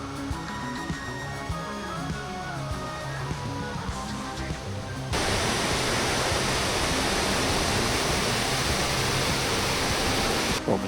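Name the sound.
waterfall beside a mountain trail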